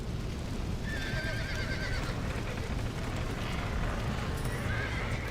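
Horses neigh and whinny repeatedly in Red Dead Redemption over a steady wash of game ambience and hoof clip-clop, with no talk.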